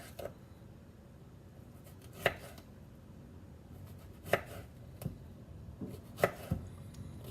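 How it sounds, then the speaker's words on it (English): A knife chopping vegetables on a cutting board for a cucumber, tomato and red onion salad, a few soft, sparse cuts against a quiet room background. "we're just going to chop this up"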